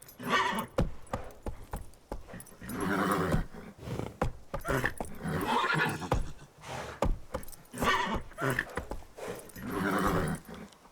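Roach the horse in The Witcher 3 gallops with a steady, rhythmic clip-clop of hooves and lets out neighs and whinnies, loud and close throughout.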